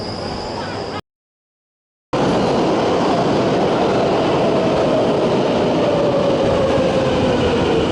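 Loud tram or metro train in Belgium or Luxembourg rumbling along with dense clattering noise and a rising whine, after a brief gap of silence.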